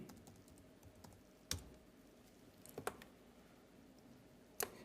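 Typing on a computer keyboard during a SharePoint search, a faint patter of keystrokes with a few sharper, louder clicks standing out, no talking.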